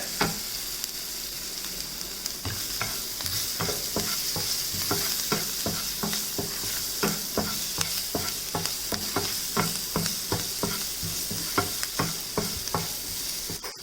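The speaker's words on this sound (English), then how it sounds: "now add green chilies, then add ginger to it, finely chopped ginger" Green chilies and finely chopped ginger fry in a pan for stuffed idli, a continuous sizzle punctuated by regular scraping stir strokes throughout, close and steady, with no talk.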